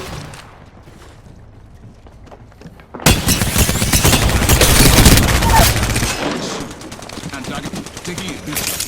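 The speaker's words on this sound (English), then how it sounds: "Getting shot at." Heavy gunfire in an Apex Legends arena match, a dense, loud burst of rapid automatic shots kicking in after a quieter stretch and continuing for several seconds, with a voice speaking in the game.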